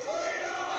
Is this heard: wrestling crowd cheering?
yes